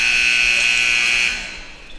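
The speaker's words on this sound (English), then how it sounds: "So the buzzer sounded, and we're ready to get things going here at set number 2" An electronic buzzer sounds in a high school volleyball gym between sets, one loud steady high-pitched tone held for over a second before cutting off.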